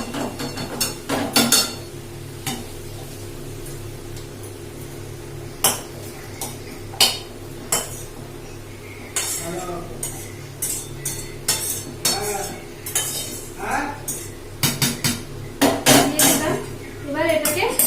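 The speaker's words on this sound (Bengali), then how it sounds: "এবার আমি সবজিগুলোকে খিচুড়ির মধ্যে দিয়ে দিচ্ছি।" Fried vegetables are tipped into a pot of khichuri and stirred, and a metal spoon clanks and scrapes against the pot in irregular bursts. The clatter is close and fairly loud, with quieter stretches between the strokes.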